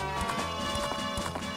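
Hooves of Epona, the horse in the video game The Legend of Zelda: Majora's Mask, clip-clopping in a quick running rhythm, steady and close, no talk.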